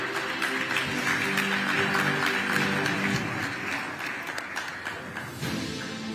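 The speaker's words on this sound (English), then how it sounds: "A huge round of applause, ladies and gentlemen." Applause from an audience at an award ceremony forms a dense, steady wash of clapping that holds evenly, with a faint tonal hum underneath and a slight dip near the close.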